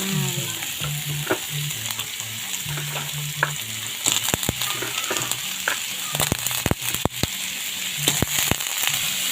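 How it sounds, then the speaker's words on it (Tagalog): Crabs tossed into a hot pan in a home kitchen, frying with a steady close sizzle, crackling pops and repeated stirring scrapes throughout, no talking. "Lagyan na natin yung mga alimasag guys."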